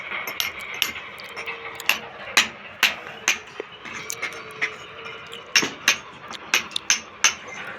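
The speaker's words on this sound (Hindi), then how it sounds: "सबसे पहले लाइट फिटिंग करने के लिए हथौड़े को ठोको" A hammer strikes repeatedly during light-fitting work, sharp metallic taps at an uneven pace, some louder than others, close by over faint room noise.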